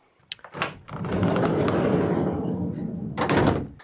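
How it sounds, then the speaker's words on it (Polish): A hinged door on a Fiat Ducato camper van under conversion opens with a short click and thunk, followed by a sustained broad rumble and a final clatter, close and fairly loud. "wystarczy otworzyć drzwi"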